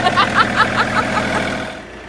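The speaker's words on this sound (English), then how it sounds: "A bit noisy on the tractor." A tractor engine runs in a paddock with a steady mid-low drone and rhythmic pulsing clatter, close by, then fades away toward the end.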